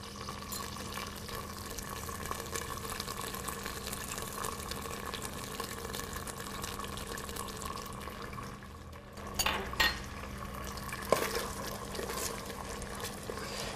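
Worcester sauce goes into a pan with a sizzling T-bone steak, making a steady, faint hiss of frying liquid with a couple of brief louder spits partway through.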